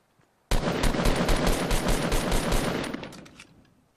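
Rapid automatic gunfire in Fortnite Battle Royale, a loud sustained burst of a dozen or so closely spaced shots starting abruptly and tailing off after about three seconds, with no talk.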